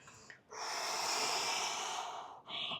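During a morning exercise routine, a person releases a long, forceful exhale of about two seconds, a close, breathy rush of air that starts after a short breath and is followed by another brief breath.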